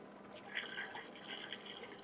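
AgroThrive organic fruit and flower liquid fertilizer is poured into a container, a faint, soft trickle and gurgle heard close for a couple of seconds.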